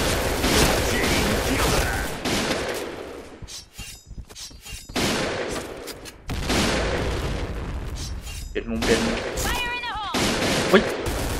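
AK-47 bursts in the video game Point Blank, with loud repeated gunfire separated by short pauses and a clatter of ringing effects near the end, while someone talks excitedly over the shooting.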